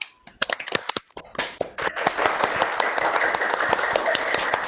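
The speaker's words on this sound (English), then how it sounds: "let's give her a round of applause" Clapping for a session leader after a plenary session at a conference webinar, starting as a few scattered, sharp claps and building into steady, fairly close applause from a small group.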